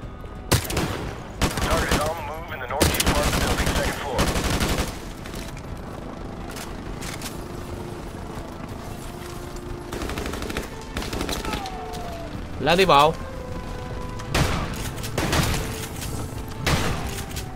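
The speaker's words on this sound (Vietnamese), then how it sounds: "Trực thăng này là chơi sáu nòng không à" Helicopter-mounted minigun fire in Call of Duty 4 Remastered, loud sustained bursts of rapid gunfire and explosions recurring through the stretch, with brief quieter gaps and a player talking over the action.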